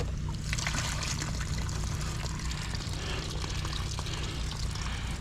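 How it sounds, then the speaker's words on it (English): Sump pumps discharging water run in a steady, close trickling and gushing wash over a constant low mechanical hum, with no talking. "there's sump pumps going crazy"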